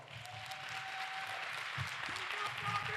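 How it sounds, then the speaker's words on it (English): Audience applause for political candidates after a debate at an NAACP branch event, a steady broadband patter of clapping sustained throughout, with faint voices mixed in underneath. "Can you please give our candidates a round of applause?"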